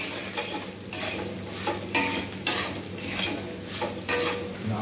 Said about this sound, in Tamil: இப்போது நல்லா கலரி விடுங்க, எல்லா அந்த மசாலா ஃபுல்லாக வந்து எல்லாத்துலேயும் சேரணும்